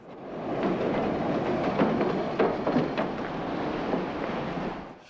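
An elevated train in New York runs along its tracks, a steady broad rumble with scattered clanks and rattles of the cars holding at an even level for about five seconds before easing off at the end.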